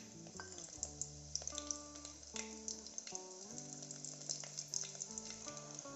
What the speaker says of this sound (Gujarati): તો ફ્રેન્ડ્સ આપણું તેલ ગરમ છે, તો હું એમાં લસણની કળી એડ કરું છું